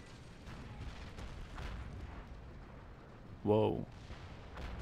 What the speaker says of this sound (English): Artillery incoming!